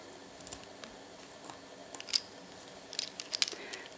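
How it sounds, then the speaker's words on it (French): A few quick, crisp snips of scissors cutting thread during bobbin lace making, close up and fairly quiet against a faint background hiss. "vous prenez les ciseaux et vous coupez bien large."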